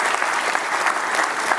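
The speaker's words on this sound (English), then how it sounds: "Let's give them a round of applause" Applause fills the room at a Salvation Army Freedom Center grand opening, a steady, dense crowd clapping that carries loud and unbroken throughout.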